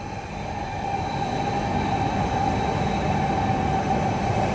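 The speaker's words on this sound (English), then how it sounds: "Yep, you can see the bullet train, right? The bullet train." A Shinkansen bullet train passes near Tokyo Station, heard as a steady, loud rushing rumble of rail noise that builds slightly and holds throughout.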